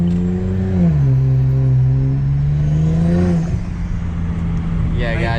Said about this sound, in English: The whoosh in the muffler.